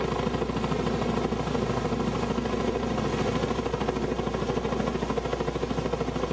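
A flying crane helicopter hovers nearby during stream bank restoration work, its rotor throbbing in a fast, relentless chop over a dense, steady engine roar that holds loud and constant throughout.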